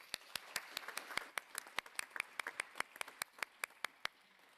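Audience at an agricultural science and innovation forum applauds with scattered, distinct claps in a fairly steady rhythm, heard at a moderate distance and fairly quiet, with no voices.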